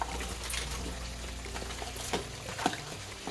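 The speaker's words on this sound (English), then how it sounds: "And I'm also going to add water." Water is poured into a pot of French green beans, a soft continuous trickle and splash at close range with a few faint clinks, no voices.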